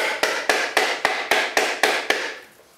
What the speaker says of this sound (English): And a ball peen hammer is a pretty good hammer for this.